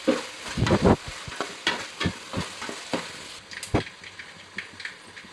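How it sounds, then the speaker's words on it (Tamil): Vegetables for semiya kichadi sizzle and rattle in a pan as they are sautéed and stirred, with repeated scraping strokes over a steady frying hiss, close and moderately loud. "எல்லாத்தையும் போட்டு நல்லா வதக்கிக்கணும்"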